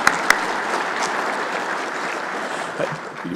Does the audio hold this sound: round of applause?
yes